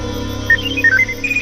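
A mobile phone ringtone plays, a short run of electronic melodic beeps rising over a low steady background hum, fairly loud and close.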